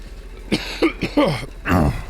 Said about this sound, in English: I apologize if I keep coughing down the mic.